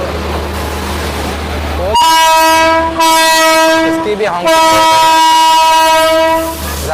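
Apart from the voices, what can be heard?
Rajdhani Express train horn honking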